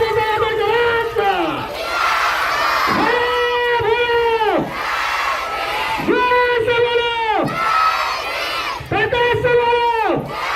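A large crowd at an Ambedkar Jayanti celebration chants and cheers together in loud, rhythmic waves, each sustained shout rising and falling roughly every second and a half.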